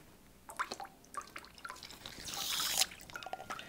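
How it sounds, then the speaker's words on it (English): Water drips and trickles steadily out of a Sawyer Squeeze hollow-fiber water filter, with a run of scattered close drops, a brief louder splashy burst near the middle, then more light drips, no talking. "clear, clean water is coming out the end"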